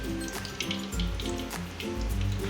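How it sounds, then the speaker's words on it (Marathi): Mustard and cumin seeds in about four spoons of hot oil for a bitter gourd stir-fry crackle and sizzle steadily, with dense popping close up and no talk. "ती आपली जिरी मोहरी छान अशी तडतडत आहे"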